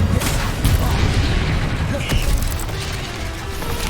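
A fire spell cast in Hogwarts Legacy bursts out with a loud, dense whoosh and rumbling crackle, spreading broad noise that stays strong and steady across the few seconds.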